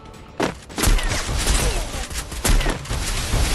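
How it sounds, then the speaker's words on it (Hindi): Rapid bursts of AWM sniper rifle fire in the Free Fire battle-royale game, loud and close, with booming impacts and mechanical clatter layered over continuous game noise. "अरे AWM चला रहा है कूद के।"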